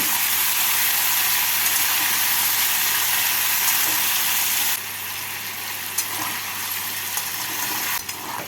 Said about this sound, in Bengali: এবার এর মধ্যে আলুর টুকরোগুলো দিয়ে দিচ্ছি আলুর টুকরোগুলোকে দু মিনিট ভেজে নেব